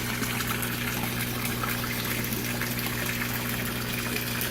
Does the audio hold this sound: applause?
no